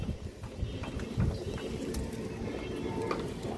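Giribaz high-flyer pigeons cooing softly in their loft, faint low repeated coos over a steady background rustle, no voices.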